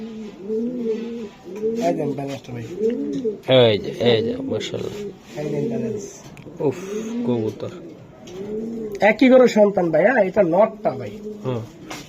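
Racing pigeons, a pair of young birds, coo repeatedly in rolling, throaty phrases close by, with someone talking over and between the calls.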